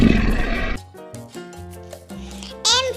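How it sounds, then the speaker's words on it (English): A lion gives one loud, rough roar for the first moment, up close, then stops. Soft music plays under and after it. "L for lion."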